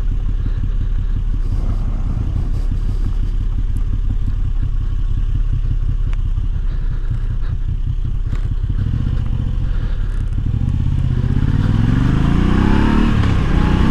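A Moto Guzzi V85 TT motorcycle rides green-lane trails, its engine giving a steady, loud, close rumbling thrum that climbs in pitch as it accelerates near the end, with some clatter over rough ground.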